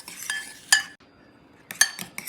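Utensil stirring crab cake mixture in a bowl for Maryland crab cakes, heard as a few sharp clinks and scrapes in two bursts with a quiet gap between them, close and alone.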